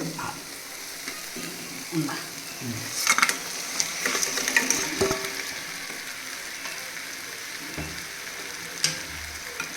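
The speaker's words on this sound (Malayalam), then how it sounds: "ഞണ്ടിട്ടിട്ട് നല്ല ഇതിൻ്റെ എണ്ണ പിടിക്കുന്ന മാതിരി ഇളക്കണം" Crab sizzling in hot oil with ginger, garlic, salt and chilli, stirred in a pan for a Kerala-style crab fry; a steady close fry with scraping stirs, busier in the middle.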